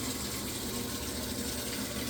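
A household appliance taking in hot water for its self-cleaning cycle, a steady even gush and hiss of flowing water throughout, moderately loud and unbroken, with no talk.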